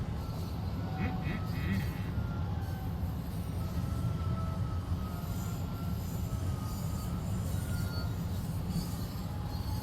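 A train runs on UK track in the video game Train Sim World 2, with a steady low rumble of wagons rolling and thin, faint wheel squeals riding above it throughout.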